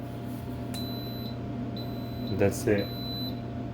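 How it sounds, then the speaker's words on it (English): An Instant Pot gives several thin electronic beeps at intervals as it starts a yogurt program, fairly quiet, over a low hum while a person speaks briefly. "just let it beep to start the process"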